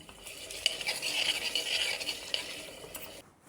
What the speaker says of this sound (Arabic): ونخليهم يتقليو مليح